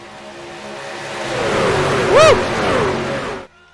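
Race truck engines roar together on the Daytona International Speedway oval in a truck-season racing video game, a loud continuous drone that swells, with one truck's pitch sweeping up and down as it passes before the sound cuts off abruptly.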